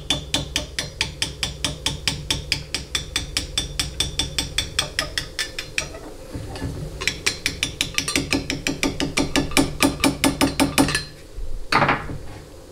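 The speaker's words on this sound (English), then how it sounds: "you can start by just simply tapping on it with a screwdriver" A screwdriver taps repeatedly on a transmission valve body part from a 1999 4L80E unit, producing sharp, rapid metallic clicks in quick runs with short pauses, close and distinct.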